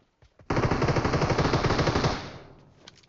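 A burst of rapid automatic gunfire from the video game PUBG Metro Royale hammers loud and close for nearly two seconds, then trails off in a fading echo.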